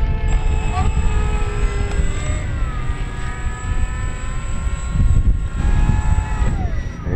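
Dynam Spitfire Mk.Vb RC float plane's electric motor and propeller at an outdoor fly-in event, a loud, fairly close whine with rising and falling pitch over wind rumble.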